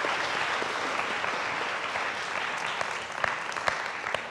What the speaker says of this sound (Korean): 애써주신 분들께 다시 한번 박수 부탁드립니다.